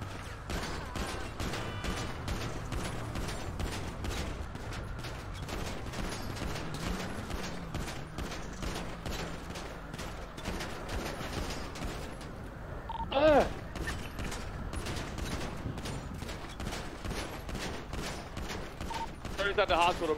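Rapid gunfire bursts crackle through a GTA V roleplay game session, repeated shots running throughout at moderate level with one louder burst midway and a voice occasionally talking.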